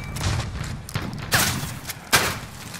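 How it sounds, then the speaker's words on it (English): Gunfire in a squad-based shooter video game, a loose run of muffled shots with two sharper, louder bursts standing out near the middle and end. "Incoming fire!"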